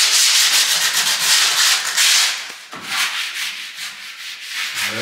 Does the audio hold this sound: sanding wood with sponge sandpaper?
yes